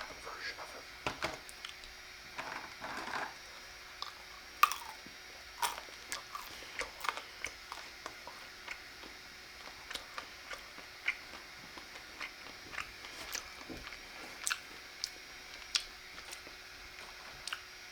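Trader Joe's chocolate-covered almonds are chewed right at the microphone, giving quiet, irregular crunches and soft clicks in a steady run of bites over a hushed, still background.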